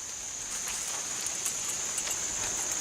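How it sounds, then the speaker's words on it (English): Rain falls at a chapel in Happy Valley, North Carolina. It is a steady, even patter of drops on surfaces with a constant hiss and scattered individual taps, and no voices. "And it's starting to rain again."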